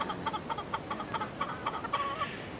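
An Oriental Sweater gamefowl rooster clucks in a quick run of short, repeated calls, close and moderately loud over faint yard background noise, with no talking.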